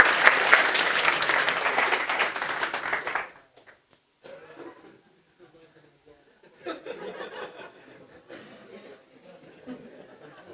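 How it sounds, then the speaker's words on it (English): A conference audience claps loudly for about three seconds at a talk, then the applause stops and scattered murmurs and soft laughter follow. "Okay, round of applause, please."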